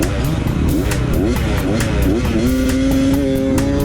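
Enduro motorcycles race through a tight wooded section, loud close engines revving and shifting pitch with repeated bursts of acceleration; the roar is continuous and near.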